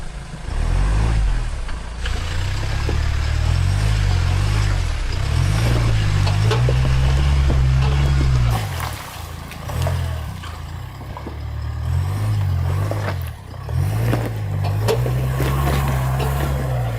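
An off-road 4x4, a Land Cruiser or Defender, powers through an obstacle with its engine droning loud and close, rising and falling in repeated revving bursts as it pushes for momentum.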